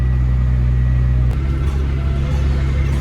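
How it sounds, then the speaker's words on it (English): A car engine idles and rumbles steadily at close range, its low drone shifting slightly as the vehicle reverses slowly near a slurry-moving job; no speech. "He didn't want to reverse back because he dirtied his car, so he's doing it now though"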